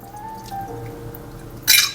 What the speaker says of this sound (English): I'm gonna have to preheat my portafilter with the hot water from the kettle